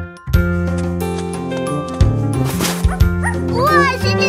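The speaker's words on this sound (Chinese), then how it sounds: "小狗宾果。" A cartoon dog yips and barks brightly in an animated children's nursery song, the loud barks mixed with bouncy music, sung melody and playful sound effects.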